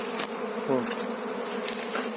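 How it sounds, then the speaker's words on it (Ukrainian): Honey bees buzz continuously in a dense, steady drone, close and fairly loud, with no talking, while cleaning a honeycomb frame during honey extraction. "Ось Зараз її бджоли почистять."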